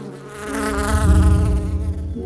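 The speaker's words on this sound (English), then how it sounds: "that huge bee" A loud, steady insect buzz like a big bee hovering close by, droning continuously with a low hum underneath.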